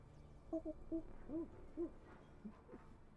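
A voice imitates a happy owl, giving a string of soft, low hoots and coos in short bursts, faint and close in a quiet room.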